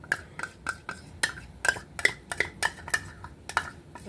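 A utensil scrapes hoisin sauce out of a measuring cup in a series of about a dozen short, sharp clinking strokes, close and fairly quiet, with no talk.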